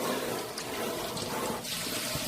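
Gulfweed seaweed being rinsed under running water in a kitchen, a continuous close splashing and gushing stream with small sloshes as the seaweed is worked by hand.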